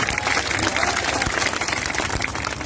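Crowd applause and clapping at a political rally, a loud sustained wash of hands that carries steadily through the whole stretch with a few voices mixed in.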